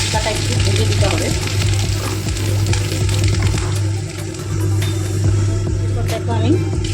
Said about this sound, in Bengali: মশলাটা একটু ভেজে দিতে হবে।